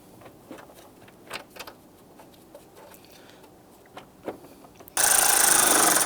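A power tool snugs down the radiator fan bolts on a 2011-2019 Ford Explorer, bursting on loud and steady for about a second after scattered faint taps and clicks.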